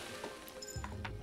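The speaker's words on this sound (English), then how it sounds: "Oh wow, we stumbled upon another horse." Faint hoofbeats of a horse clip-clopping in the side-scrolling game Kingdom Two Crowns, a soft, steady trot set low beneath quiet game ambience.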